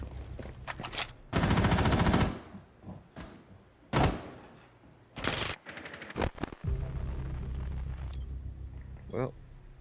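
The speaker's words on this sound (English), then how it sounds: "They're like trying to shoot you through a wall." Bursts of automatic gunfire in a multiplayer shooter game as an enemy fires through a wall, loud rapid volleys broken by gaps, with a player talking in between.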